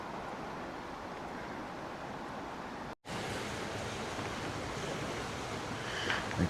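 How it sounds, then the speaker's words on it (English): Flowing water near High Force waterfall rushes as a steady, dense, broadband roar, constant and fairly loud with no speech, cut by one brief dropout midway. "Oh, listen to the water."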